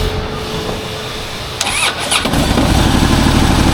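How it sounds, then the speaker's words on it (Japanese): A 2009 Harley-Davidson FLHTCU is started: a brief starter whir, then the engine catches with a loud bark and settles into a rough, steady idle, close and with no voices. "ちょっと一回エンジンかけますね。"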